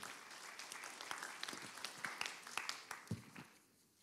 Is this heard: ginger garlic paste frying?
no